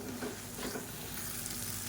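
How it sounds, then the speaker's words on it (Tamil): Steady soft sizzling and stirring of grated coconut in a hot pan, a continuous gentle crackle of sautéing, close and alone. "இப்போ இதையும் சேர்த்து நல்லா வதக்கிக்கலாம்."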